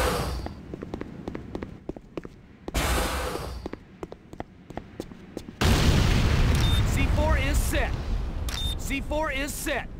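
A GDI weapons factory blowing up in the game Renegade: loud broadband blasts and booming rumbles, preceded by sharp impacts, with game voice announcements and talk over the noise.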